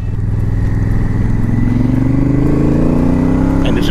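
A 2018 Honda Africa Twin Adventure Sports motorcycle runs loud and close while being ridden, its engine note rising steadily as it accelerates, with no talk over it.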